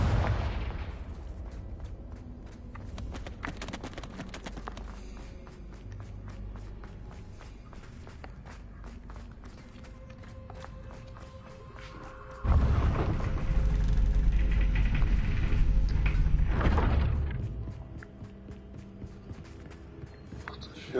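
An explosive Confringo spell fires in a mage video game, bursting into a loud, sustained blast after a stretch of quieter footsteps and ambient game sound, then fading back down.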